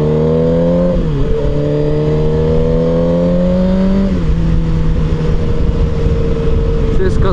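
A Suzuki GSX-R 1000 motorcycle being ridden in riding mode C, its engine holding a steady loud drone with a couple of brief dips and rises in revs, heavy wind roar throughout.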